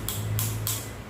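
A totally worn-out CV axle on a car knocking in three evenly spaced clicks over a constant low mechanical hum, heard up close with no voices.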